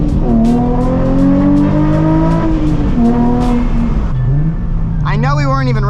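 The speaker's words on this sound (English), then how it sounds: "Let's gas it, let's get some acceleration." A Nissan 350Z HR accelerates hard, a loud, close engine note climbing through the revs, easing off, then building again, with a short tire squeal and a voice exclaiming near the end.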